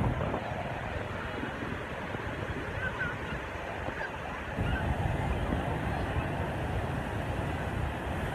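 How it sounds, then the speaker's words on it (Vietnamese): Big, murky sea waves roll in at Quất Lâm beach, a constant rushing surf roar with wind noise that swells louder about halfway through. "Quất Lâm Tự sóng mới to đục lắm."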